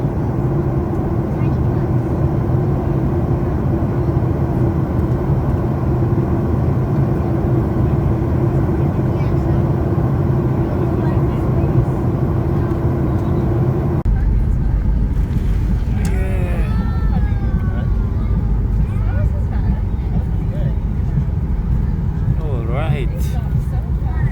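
Inside the cabin of an airliner landing at Halifax, a loud, steady engine roar drops to a lower rumble partway through, with people talking over it.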